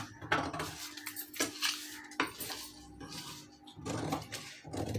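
Scissors cutting through a fabric sleeve, a series of sharp metallic snips and clicks in an irregular rhythm, close and fairly crisp, with no talking.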